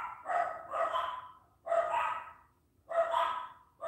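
Several dogs bark in bursts inside a house, three loud clusters of overlapping barks and yips separated by short quiet gaps, fairly close.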